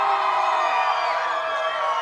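Spectators at the 2017 Fort Wayne City Swim Meet make a dense, steady roar of crowd noise and cheering from below, loud and continuous with no breaks, no single voice standing out.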